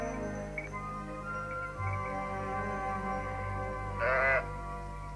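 Sheep bleat a few times at moderate distance, with one louder, nearer bleat standing out near the end over a steady background hum.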